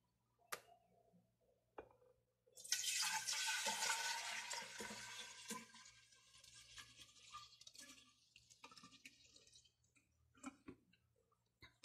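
Rice horchata water pours into a container as a sustained splashing gush lasting several seconds, followed by trickles and drips, with scattered clinks before and after.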